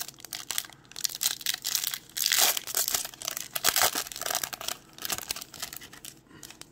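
WWE Topps Chrome trading card pack torn open by hand: crisp crinkling and ripping foil wrapper noises in uneven bursts, close and fairly loud, no talking.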